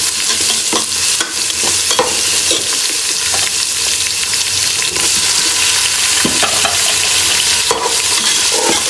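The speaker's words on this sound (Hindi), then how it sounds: "फिर हम इसमें अपना टमाटर ऐड कर देते हैं।" Onion, garlic, ginger and tomato sizzle steadily in hot oil while being stirred for channa palao, with a continuous loud frying hiss and scattered scraping clicks of the spoon against the pot throughout.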